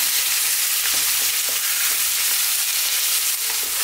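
Chicken chow mein stir-fries over high heat in a constant loud sizzle, with soft scraping and stirring taps layered over the steady crackle.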